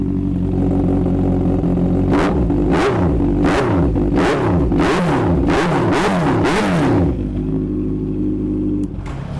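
Close, loud revving from a 2016 Honda CB650F with a titanium exhaust: about eight sharp throttle blips in quick succession over a running engine, then it drops back to idle.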